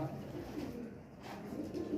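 Soft pigeon cooing, low and murmuring, continuing through the short stretch at a moderate, steady level.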